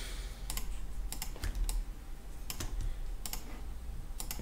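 Computer keyboard keys pressed in a few quick separate clusters of close, crisp clicks during 3D modelling work in Maya 2022, with a faint steady hum underneath.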